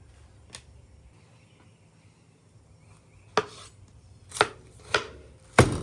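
A spatula chops smash burger beef on a griddle in four sharp metallic strikes. The first blow stands alone and the last three follow in a quicker run over a low sizzling bed, close and distinct.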